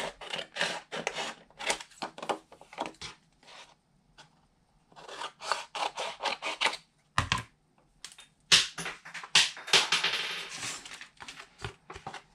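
Scissors trim paper for a handmade desk calendar, producing quick crisp snips in rapid clusters, then a pause, then more snipping and rustling paper nearby.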